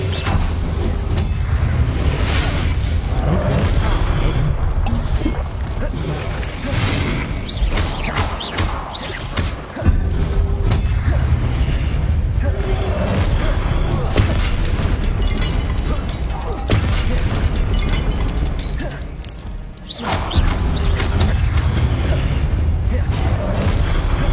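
Spell-casting effects in the Hogwarts Legacy video game, dense, continuous magical booms, bursts and crashes layered loudly throughout, with brief lulls, while a voice keeps calling out during the battle.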